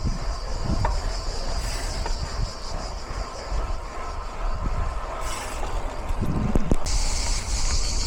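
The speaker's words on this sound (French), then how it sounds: "On entend les cigales" Dense, shrill cicada buzzing fills the air continuously, loud and close, with a few brief pulses of louder chirping and faint background rumble.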